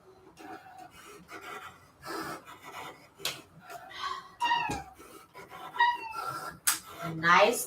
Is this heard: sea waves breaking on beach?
no